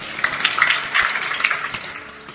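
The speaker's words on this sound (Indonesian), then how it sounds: "Itu tepuk tangannya jadinya." An audience at an Indonesian Christian sermon gives dense, steady applause that holds for a couple of seconds at moderate loudness.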